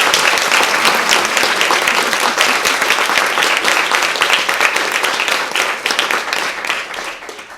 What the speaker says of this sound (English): Round of applause for our first 5 speakers.